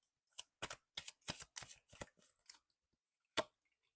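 Tarot cards being shuffled in a quiet room: a quick run of crisp, papery riffles and slaps in short bursts, then a pause and one final sharp snap of the deck.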